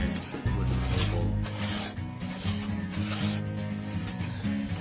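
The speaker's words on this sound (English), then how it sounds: "The scraper can still take off a good amount of wood if it's sharpened properly." Card scraper shaving yew wood while roughing out a bow by hand, giving steady rasping, rubbing strokes that repeat in a continuous rhythm, close and moderately loud with no talk.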